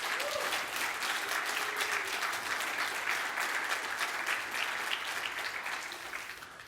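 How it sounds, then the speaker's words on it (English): An audience at a tech conference applauds continuously, a dense, even patter of many hands at moderate distance that tapers slightly toward the end. "let's just give everybody a big hand for putting on such an amazing conference real quick"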